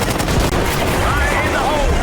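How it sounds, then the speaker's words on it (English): Heavy, sustained gunfire from Call of Duty Black Ops 6 rattles in dense overlapping bursts, loud and close. Whining and whooshing sweeps pass overhead through the din. "we're taking fire!"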